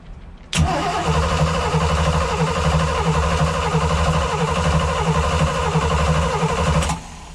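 Engine on a Luhrs 28 boat cranking and catching during a carburetor test, starting with an abrupt onset, holding a loud, steady running drone for several seconds, then cutting off sharply.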